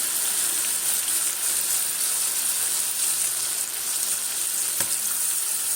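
Spices crackle and sizzle in hot oil while kul pickle is cooked, making a continuous, fairly loud frying hiss with a sharp pop near the end. There is no talking.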